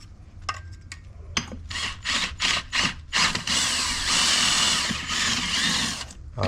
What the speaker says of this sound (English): the drill is gripping on the rubber, going the whole way around